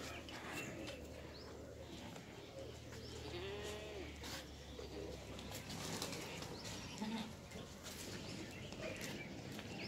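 Goats and their kids on a goat farm in Ahmedabad call faintly amid rustling and bird chatter, with a few short bleats scattered through a busy, moderately quiet outdoor scene.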